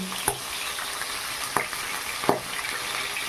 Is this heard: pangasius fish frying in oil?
yes